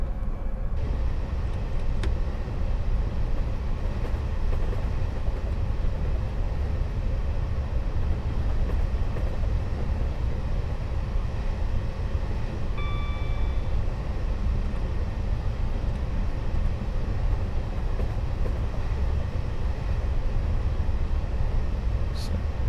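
Steady rumble of a Class 460 electric multiple unit running along the Brighton Main Line in Train Sim World, a continuous loud drone of motors and wheels on track with a brief tonal squeal partway through.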